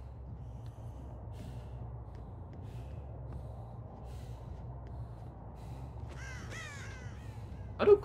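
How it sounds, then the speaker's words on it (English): Crows caw from the Dead by Daylight video game, a short burst of harsh calls near the end over a steady low ambient drone, followed by a louder thud. "how do crows get in here?"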